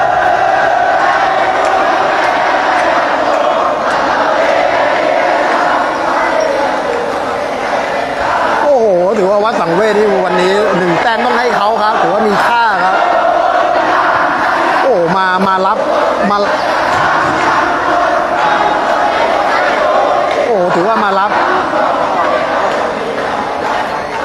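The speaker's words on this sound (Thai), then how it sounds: "ชมบรรยากาศของกองเชียร์เลยนะครับ" Football supporters at a Thai school match between Islam Witthayalai and Wat Sangwet, roaring and chanting steadily throughout at close, loud level, with a commentator's voice over the crowd.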